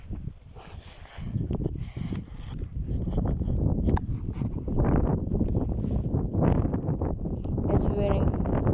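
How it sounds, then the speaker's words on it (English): Strong wind blows outdoors on a rainy camping day, a constant low rumbling buffet against the microphone, loud throughout, with people talking over it. "It's really windy, I mean."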